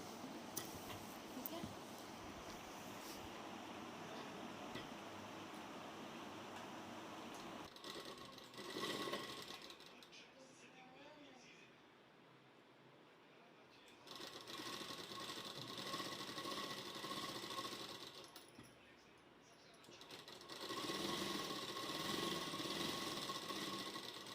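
A sewing machine stitches salwar pieces with a half-inch margin, running in long steady bursts that stop and restart, with a voice talking in Hindi over and between the runs.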